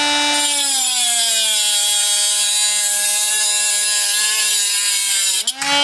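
Small HILDA mini angle grinder cutting an aluminium LED matrix board, a loud steady high-pitched whine with a slight pitch drop as the disc bites, running continuously before spinning down abruptly at the end.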